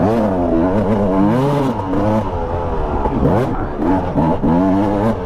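Husqvarna TE300 two-stroke dirt bike climbing a hill, its engine revving hard and continuously, loud and close, with rising and falling pitch as the throttle opens and shifts.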